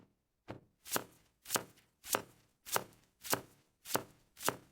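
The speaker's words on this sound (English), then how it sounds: "I cut the onions." Onions chopped with a knife on a board, eight evenly spaced sharp thuds in a steady rhythm, close and clear with no talk.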